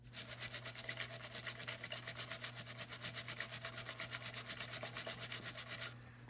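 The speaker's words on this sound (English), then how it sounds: "There, I'm just scrubbing that." A dirty guitar scrubbed hard to remove grime, a fast, even back-and-forth rubbing rhythm of about six strokes a second, close and steady over a low hum until it stops abruptly near the end.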